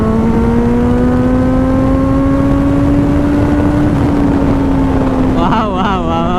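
A 2021 Kawasaki Z900 inline-four motorcycle pulls hard in a rising, steady engine tone, close and loud over heavy wind rush, with a voice briefly speaking near the end.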